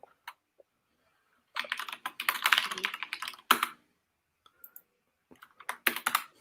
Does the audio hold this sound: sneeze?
no